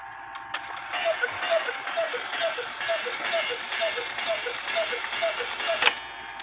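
A count wheel cuckoo clock, freshly reassembled and running, ticks in a steady, even beat of crisp mechanical clicks, close and moderately loud against a faint room background with no talking.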